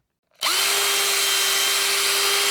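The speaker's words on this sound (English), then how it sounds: "That's the most important bit, that you do that with a 2 mil drill bit" A power drill with a 2 mm bit drills holes in a wooden guitar neck, running steadily at full speed, a loud continuous whine starting after a brief silence and holding without pause.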